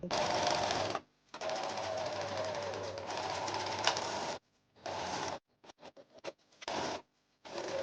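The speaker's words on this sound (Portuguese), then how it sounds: "E agora é só passar uma costura reta onde eu estou a mostrar em toda a parte e zigue-zague também." A sewing machine runs close by, stitching a straight seam on a prom dress, its steady whirring hum coming in several bursts: two long runs followed by short stop-start pulses.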